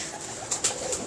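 A flown racing pigeon at a loft in Model Town, giving soft coos and a few brief sharp calls over a quiet background.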